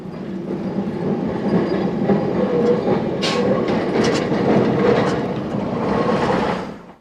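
A London electric tram rumbles steadily along the track, with low droning wheel noise, occasional clacks and a brief metallic squeal, close and loud throughout.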